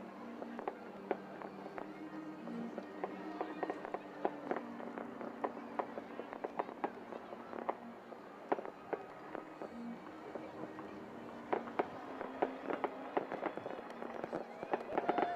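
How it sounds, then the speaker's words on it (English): Pyrotechnics strapped to skydivers' legs burn during a jump at a balloon fiesta, giving faint, scattered crackling pops over a steady wash of distant crowd and broadcast noise. Voices murmur underneath. "they've got 40 to 60 pounds of explosives strapped to their legs"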